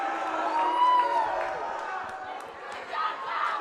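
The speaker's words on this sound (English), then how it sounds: "The crowd didn't agree." Crowd at a varsity girls basketball game, Dexter at Foxcroft, reacting in disagreement with a call: a sustained murmur of voices with shouts rising and falling across the gym, moderately loud and continuous.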